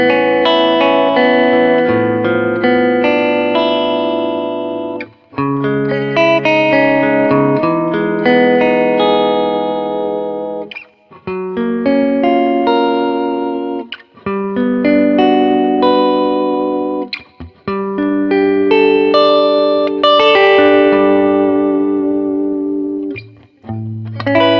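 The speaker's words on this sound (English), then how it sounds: "Let's check out some clean tones. Let's start with both P90s on at once" A new vintage-style electric guitar with both P90 pickups on plays clean chords and melodic phrases, ringing and sustained with brief pauses between passages.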